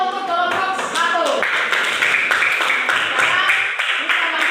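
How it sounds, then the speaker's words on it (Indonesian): Students in a classroom applauding a presenting group: dense, continuous clapping from many hands throughout, loud and close, with voices mixed in. "tepuk tangan dulu untuk kelompok 1"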